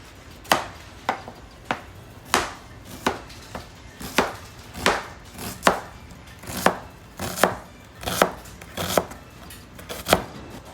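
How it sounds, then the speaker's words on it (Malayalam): A knife chops onion finely on a board, for a mushroom cream sauce to go with grilled chicken legs, in about fifteen sharp, close, fairly even strikes, with no talking. "അപ്പോൾ ഇതോടെ ഒണിയൻ അരിഞ്ഞു കഴിഞ്ഞു"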